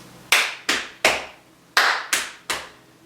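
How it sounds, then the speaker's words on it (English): Body percussion rhythm of a clap followed by two pats and a pause, repeated twice, six sharp close hits in two groups of three, with no talking. "it would be clap, pat, pat, pause, clap, pat, pat, pause."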